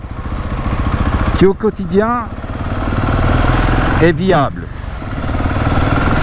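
A Husqvarna Supermoto 701 single-cylinder motorcycle rumbles steadily through town, its engine note rising and falling with throttle, while someone talks over it twice.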